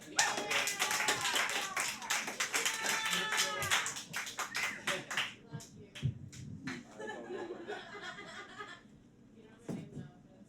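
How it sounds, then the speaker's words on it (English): A small live audience claps for a performer called Jack, a quick burst of close hand claps that thins into scattered claps and taps, with chuckles and laughter breaking through. "Round of applause for Jack."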